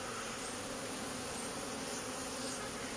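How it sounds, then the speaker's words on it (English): A swarm of honeybees buzzing, a dense continuous drone of many wings filling the air, steady and even throughout with no voices. "And I got a lot of bees"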